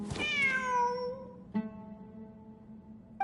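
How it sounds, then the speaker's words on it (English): A cat meows in the Genshin Impact video game: one clear, drawn-out meow that falls in pitch, followed by a short second call and a faint chirp at the very end, close and alone. "Wait, there it is! The cat!"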